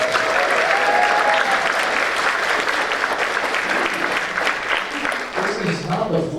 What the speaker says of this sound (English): So how about a round of applause for the orchestra?